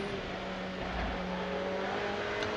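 A Ferrari Challenge race car accelerates at the Imola circuit, heard as a steady, loud engine drone with a sustained tonal whine throughout.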